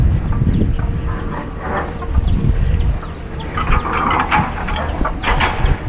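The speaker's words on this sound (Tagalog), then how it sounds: "Malaki na yung manok." A large chicken at a rural house clucks repeatedly in short, irregular calls, close and fairly loud, with a low rumble beneath.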